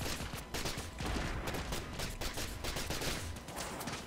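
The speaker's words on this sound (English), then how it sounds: "I can't even see where I'm shooting." Dense, continuous gunfire from a first-person shooter match in the game Minimum, loud rapid bursts layered over a busy battle din for the whole stretch with no voice.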